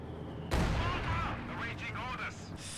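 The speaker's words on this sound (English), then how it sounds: "Stug dodging some 112mm mortar shots" 112mm mortar shots in Company of Heroes 2 land near a StuG with one sudden loud blast that rumbles and fades. A commentator's voice runs over the blast.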